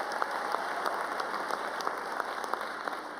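Audience applause at a community college commencement ceremony, a steady wash of many hands clapping with a few sharper individual claps standing out, moderately loud throughout.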